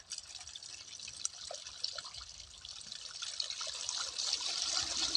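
Faint trickling and splashing of water flowing out of a pipeline chamber, growing slightly louder toward the end, with no talking.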